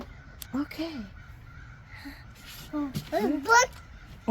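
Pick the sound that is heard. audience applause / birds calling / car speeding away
birds calling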